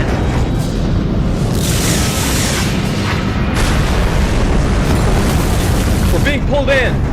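A starship explodes in a Star Trek fan film: a loud, sustained rumbling boom with heavy low-end roar and crackling debris that fills the whole stretch, with voices briefly heard near the end.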